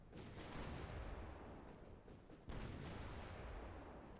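Naval gunfire in the strategy game Hearts of Iron IV, big warships firing on destroyers: a dense, continuous rumble of distant booming shots with one sharper blast midway, steady and loud throughout.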